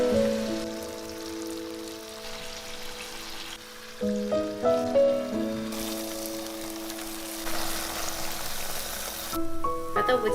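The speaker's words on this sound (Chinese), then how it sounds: "油温7成热，把豆腐放下来煎" Tofu slices pan-fry in hot oil, a hissing sizzle that swells partway through beneath steady background music with melodic tones.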